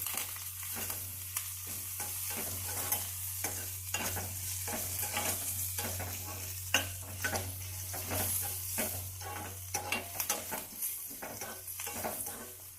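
Coriander seeds, curry leaves, peanuts and chana dal dry-roasting in a pan, stirred continuously: rhythmic scraping and rattling of the spoon against the pan over a soft steady sizzle and a low hum.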